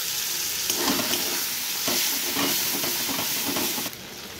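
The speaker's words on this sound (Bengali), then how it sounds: "এরপর ভেজে রাখা চিংড়ি মাছগুলো দিয়ে দেবো" Prawns, potato and pointed gourd stir-fried with spices in a pan, a continuous close sizzle with scraping stirring strokes, dropping quieter at the end.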